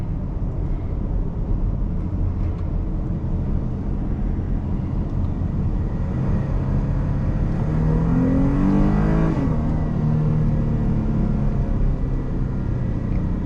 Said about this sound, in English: We're gonna do a 0 to 60 on an abandoned road somewhere